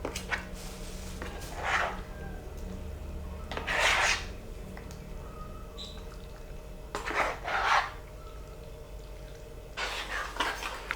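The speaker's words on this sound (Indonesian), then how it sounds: "Lalu kemudian kita aduk sampai rata." Beef satay pieces being stirred with soy sauce in a bowl until evenly coated, giving several soft wet rasping and scraping bursts separated by quieter pauses, close and moderately loud, with no talking.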